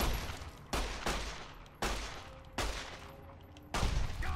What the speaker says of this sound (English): I shot his arm off